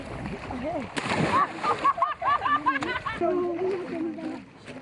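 Schoolchildren plunge and splash in a pool of water by a bridge, giving loud, irregular splashes and sloshing mixed with overlapping shouts and voices.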